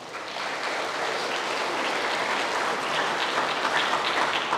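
Church congregation clapping together during a Sunday service, a steady, moderately distant wash of applause lasting a few seconds with no voices over it.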